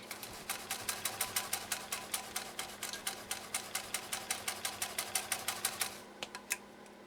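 A 1928 Singer 66-6 sewing machine stitching at a steady fast pace, a rapid, regular mechanical clatter with a low motor hum underneath, close and clear. It slows and stops near the end, and no one speaks.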